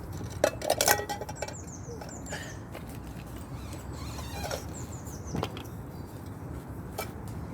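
A small camping kettle is handled and set up in woodland, with scattered metallic clinks, light knocks and rustles at close range, bursts of clatter between quieter pauses and faint birdsong in the background.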